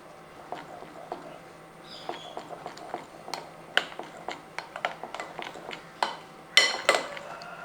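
A spoon scrapes and clinks against a bowl in an irregular run of sharp taps as flour is added bit by bit to a sweet snack batter made with ripe plantain, close and fairly quiet with no talk.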